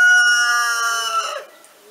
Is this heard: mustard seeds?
no